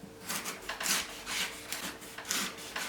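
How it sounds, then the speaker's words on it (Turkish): A knife slices celery thinly on a cutting board, giving soft, quiet, rhythmic scraping cuts repeated steadily at close range. "Şimdi kerevizi göstermek istiyorum. Bunu da böyle ince ince mümkün olduğu kadar dilimleyelim."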